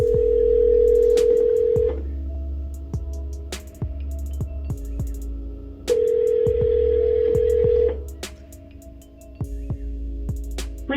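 An outgoing phone call rings in the earpiece: two long, loud ring tones about four seconds apart, separated by quiet gaps with faint clicks, followed by a short burst at the end.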